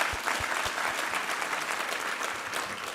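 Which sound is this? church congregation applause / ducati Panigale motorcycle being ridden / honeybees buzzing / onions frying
church congregation applause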